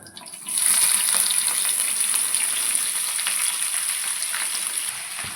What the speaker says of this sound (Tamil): கடுகு கருவேப்பிலை நல்லா பொரிஞ்சதுக்கப்புறமா நம்ம கட் பண்ணி வச்சுருக்க கோவக்காயை அதோட சேர்த்துக்கலாம்